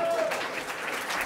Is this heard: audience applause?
yes